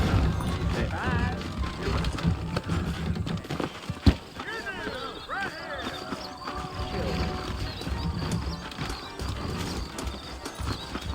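Horses' hooves clip-clop on a dirt trail in the Western video game Red Dead Redemption, a steady rhythmic plodding close by, with a horse snorting, tack rattling, one sharp knock and characters talking over it.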